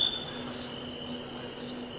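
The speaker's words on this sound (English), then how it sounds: "called snowy tree crickets." Snowy tree crickets make a steady, high-pitched trill that holds as one continuous tone over faint background hiss, moderately quiet and even throughout.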